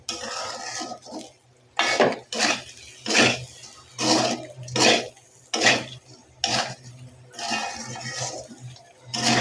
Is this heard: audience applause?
no